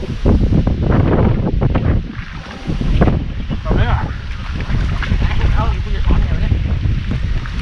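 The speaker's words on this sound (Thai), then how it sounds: "ลมแรงมาก" Strong wind buffets the microphone beside a fishing pond at a catfish fishing park, a loud continuous roar with gusts and brief lulls, while people talk over it.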